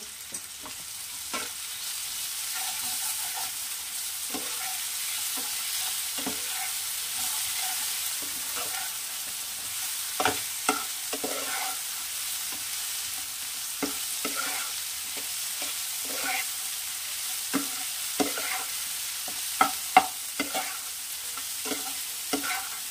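Green chilli, red chilli powder and spices fry in oil over low heat, giving a long, even sizzle broken by frequent soft scrapes and taps of a stirring spoon.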